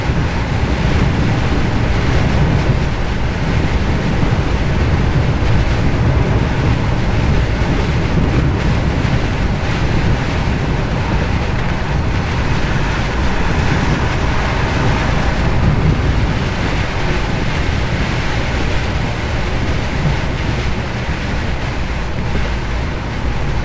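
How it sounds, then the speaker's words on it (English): Strong wind roars over rough sea during a storm in the UK, with waves surging and buffeting noise on the microphone, a loud continuous wash with no speech. "Wind just stepped up a bit."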